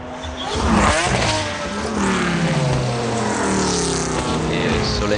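A race car at Le Mans 1996 at sunset, with Yannick Dalmas driving: a loud, sustained engine drone with shifting pitch sweeps as it revs past, close and steady throughout.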